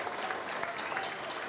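Distant crowd applause at a high school football playoff semifinal as an injured player is helped off the field, a brief, steady wash of clapping heard from afar.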